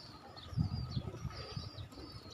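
Pigeons, including a mother and her chick, give faint, low, throaty coos in a few soft bursts, with light rustling of movement around them and no talking.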